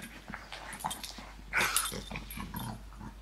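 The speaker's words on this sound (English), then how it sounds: "Can you not just be a relaxing dog?" A pet dog whimpering and giving low growls indoors in a living room, close by, in short uneven bursts with one louder yip partway through.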